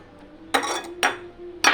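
Egg being beaten in a bowl, three sharp clinking strikes of utensil against the bowl, close and distinct with quiet gaps between.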